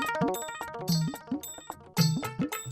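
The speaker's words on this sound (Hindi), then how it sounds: "घंटी बज रही है।" A phone rings with a bright, chiming electronic ringtone melody of quick bell-like notes repeating in short phrases, fairly faint and with no talk over it.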